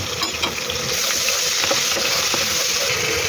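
Garlic and ginger paste sizzling in hot oil with garam masala for a beef biryani, a steady close hiss of frying with a few light stirring clicks.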